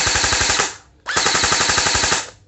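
An NWELL M406 CQB electric water gel blaster fires on full auto, two sustained bursts of rapid, evenly spaced mechanical shots with a short gap between, loud and close with no talking.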